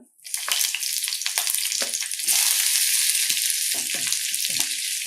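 Green chili and capsicum hit hot oil with a sudden loud crackling sizzle that holds steady, broken by a few scraping stirs, cooked without gas on a switched-off appliance.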